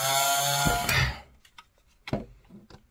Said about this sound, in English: This is why I don't like these powerful drills sometimes.